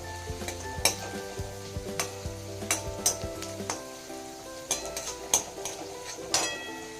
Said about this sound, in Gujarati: એકથી 2 મિનિટ આપણે ડુંગળીને સાંકળી લઈશું, ત્યાં સુધીમાં ડુંગળીનો કલર બદામી રંગનો એટલે કે ગુલાબી લાલ રંગનો થઈ જશે।